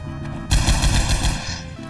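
A rapid burst of loud gunfire in Garry's Mod military roleplay, a fast rattling string of close shots lasting over a second before stopping.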